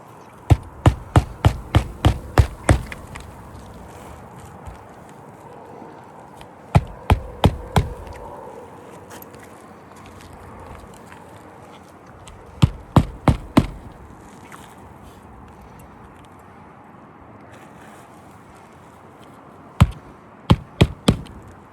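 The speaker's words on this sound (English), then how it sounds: "So now he's nailing the old shingle back into place." A hammer drives nails into a new roof shingle during a roof repair, sharp close knocks arriving in quick bursts of four to eight strikes separated by quiet pauses.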